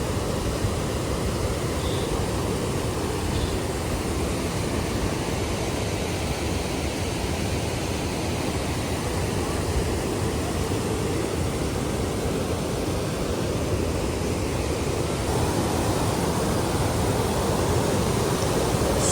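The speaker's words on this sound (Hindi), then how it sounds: "आइए इस नाले को पार करते हैं" A loud, steady rush of a glacier-fed mountain stream on the Kinnaur Kailash trek, its broadband roar filling the whole scene up close without pause and with no voices over it.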